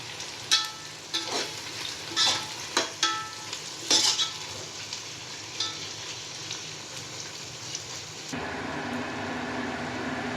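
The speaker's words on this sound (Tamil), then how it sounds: "இப்போ இது கொஞ்சம் கோல்டு கலர் வர வரைக்கும் நம்ம வதக்கிடலாம்." Onions sautéing in a pan for mutton biryani: a close, steady sizzle broken by several rhythmic stirring scrapes in the first half, then a louder, more even frying hiss toward the end, with no talking.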